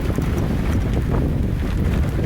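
Strong wind gusts near 80 mph battering a portable car garage, a loud, steady roaring rush buffeting the microphone with no break.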